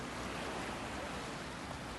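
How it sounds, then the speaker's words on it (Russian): Soft, continuous wash of sea surf along a hotel beach in Beldibi, Turkey, a broad, even hiss without distinct breaks and with faint wind noise on the microphone. "Посмотрите, как играет море."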